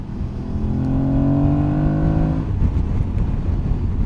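Aprilia Tuareg 660 motorcycle engine revving hard with a strong airbox intake roar, rising in pitch for about two seconds before dropping back to a rumbling idle, loud and close.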